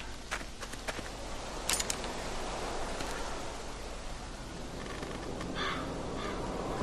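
Crow-like cawing in The Walking Dead video game, a few short calls standing out over steady outdoor ambience with faint rustling and footsteps, no talking.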